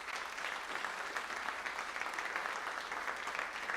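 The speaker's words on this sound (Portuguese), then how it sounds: "Você pode aplaudir Jesus por essa palavra?" A church congregation claps together, a steady, even wash of applause heard at moderate distance and fairly quiet, with no voices over it.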